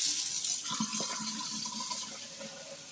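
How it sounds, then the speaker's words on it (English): Cold well water running from a faucet into a container, a steady rushing stream that stays fairly loud and constant, with a faint gurgling change in pitch as the vessel fills. "That way you see I am getting it from my faucet."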